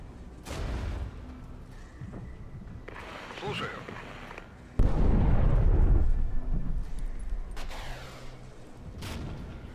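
Artillery booms in the Regiments wargame, several deep rumbling blasts spread across the span, the loudest burst near the middle, with speech heard alongside.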